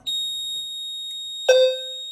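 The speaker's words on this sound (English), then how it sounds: "When we go to reset, for whatever reason, these things will beep." A fire alarm panel's devices beep on reset: a shrill, continuous electronic alarm tone, loud and close, joined by a second lower beep partway through.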